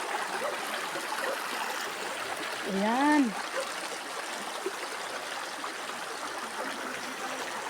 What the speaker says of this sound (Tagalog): Ayan, may sapa.